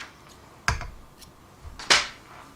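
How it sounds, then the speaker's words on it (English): Scissors snip through crochet yarn twice, two short sharp clicks close by with a quiet pause between them and no voice. "I'll chain 1, then I'll cut this yarn."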